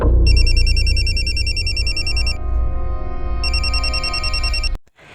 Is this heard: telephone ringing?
yes